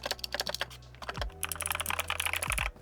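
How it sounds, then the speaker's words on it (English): Rapid clattery keystrokes on an ROG Asus Strix gaming keyboard with NX switches, a close, busy run of thocky yet clicky presses with brief pauses and a couple of heavier thumps mid-burst. "We've got a ROG Asus Strix keyboard with NX keys."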